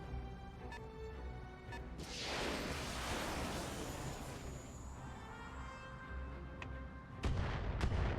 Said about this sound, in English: Oh god, it's all fucking mortars